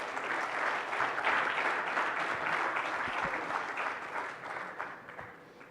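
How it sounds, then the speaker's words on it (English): A KPMG conference audience gives the arriving panel a big round of applause, a broad, sustained wash of many hands clapping that softens slightly toward the end. "Big round of applause,"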